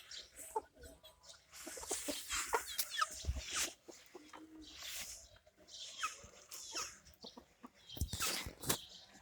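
Chickens cluck and squawk in scattered bursts nearby, with a few sharper calls standing out over a quiet background.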